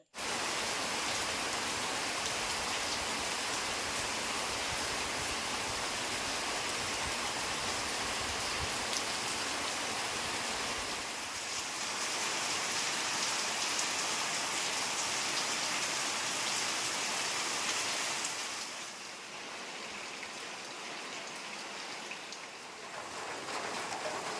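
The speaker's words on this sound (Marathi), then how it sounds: "मुसळधार पाऊस पडत होता मस्तपैकी" Heavy monsoon rain pours steadily near rice paddy fields, a dense continuous hiss that holds almost unchanged throughout, with one brief dip in loudness near the end. No voices are heard.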